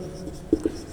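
A marker or chalk writing on a board in a classroom, two quick, soft strokes close by against a quiet room background.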